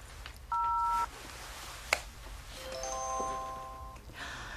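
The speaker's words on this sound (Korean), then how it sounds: "전화나 한 통 해야겠네" A telephone speed-dialed from memory in an office: two short electronic tones, a sharp click, then a rising series of dialing beeps, with faint room noise and no speech.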